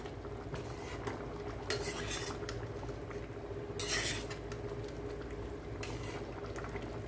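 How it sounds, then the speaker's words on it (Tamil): A pot of vegetable curry bubbles steadily at a low simmer, with occasional scraping stirs of a utensil against the pot; quiet and close. "நல்லா கொதிக்கட்டும் பார்க்கலாம் ஒரு சேர சேர்ந்து கொதிக்கட்டும்"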